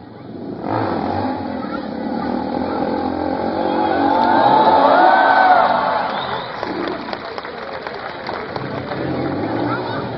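A stunt motorcycle revs loudly at a freestyle show at Techfest, IIT Bombay, the engine rising in pitch and then easing off, with crowd cheering and an announcer's amplified voice over it.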